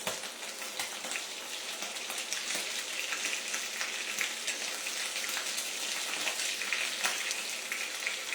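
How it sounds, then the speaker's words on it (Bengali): Paneer cubes frying in hot oil in a pan for paneer makhani, a dense, steady close sizzle with fine crackling throughout and no voices. "পনিরটা আমার অলমোস্ট ভাজা হয়ে গেছে, জাস্ট একটু দুপিটটা লাল লাল করে আমি ভেজে"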